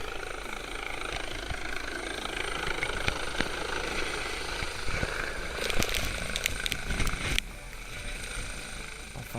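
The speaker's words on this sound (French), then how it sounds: "En fin de journée, l'hélicoptère du SAMU revient dans la station des jets pour venir chercher le deuxième médecin" A SAMU emergency medical helicopter flies over a ski resort station in the Alps, its steady rotor and turbine roar filling the scene at close range, with a brief louder passage midway before settling back.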